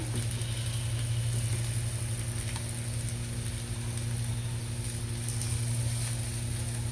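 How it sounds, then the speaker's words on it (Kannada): Raw banana slices fry in a pan with a steady, continuous sizzle that holds at an even level throughout, with a low hum running underneath and no talking. "ನೋಡಿ ಎಷ್ಟು ಚೆನ್ನಾಗಿ ಫ್ರೈ ಆಗ್ತಿದೆ ಸೂಪರ್ ಅಲ್ಲ"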